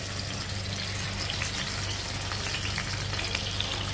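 Katla fish pieces sizzle steadily in hot oil for curry with eggplant, a dense, even crackle filling the whole stretch at close range, with no voices.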